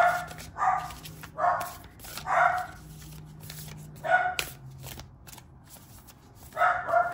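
Several dogs bark in short bursts spread across the stretch, some single yips and some quick doubles, moderately near, with a low steady hum underneath and quiet gaps between volleys.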